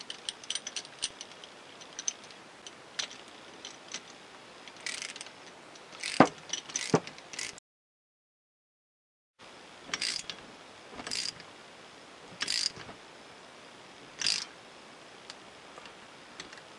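Metal V-band clamp fitted around the flanges of a rebuilt turbocharger's turbine housing and center section, giving a series of sharp, close clicks and ratcheting taps with short pauses between them.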